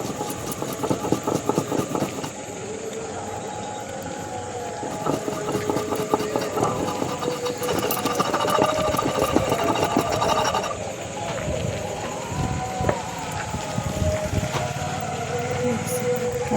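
An electric grinder whirs steadily, grinding spice paste for a desi chicken egg curry. The motor drone runs continuously and fairly loud for the whole stretch, with some uneven rattling and changes in load.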